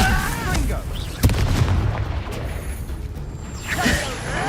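A Confringo blasting spell detonates in Hogwarts Legacy, a sharp boom with a whooshing burst in the middle of the clip, set among rumbling game combat effects and a voice shouting in the background.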